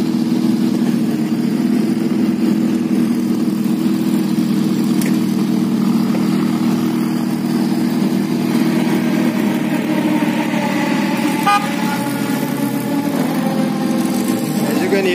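A McLaren 720 idles with a steady, loud low exhaust rumble throughout, among other cars, while people talk over it.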